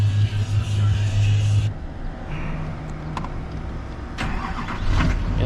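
A Chevy car engine cranks and catches, a short starter whir followed by the engine firing and settling into a rough idle nearby, with brief clatter over the running motor.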